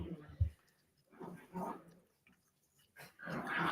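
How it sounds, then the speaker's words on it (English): Puppies growl and grumble in short, scrappy bursts while fighting over a plush lamb toy, close by, with a few yips and snorts between pauses. "So the puppies are all wound up. They're fighting their lamb chop toy"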